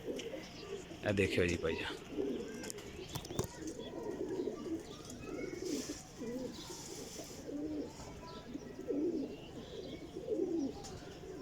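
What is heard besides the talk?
breeder pigeons cooing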